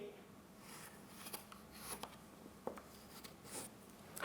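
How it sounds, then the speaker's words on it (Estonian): A pen or pencil drawing a smaller circle on paper, giving soft, intermittent scratching strokes close by at low volume. "Joonistame paberi peale väiksema ringi"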